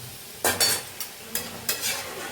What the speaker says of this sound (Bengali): এদিকে হচ্ছে কুলেখাড়া শাক ভাজা